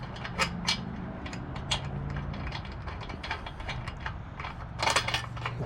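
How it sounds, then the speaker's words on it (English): A nylon locking nut being threaded onto a bolt while installing a Rough Country roof basket on a Jeep JK, with soft irregular metallic ticks and scraping, close and quiet. "And the nut goes on the bottom, just like that. And just thread it in."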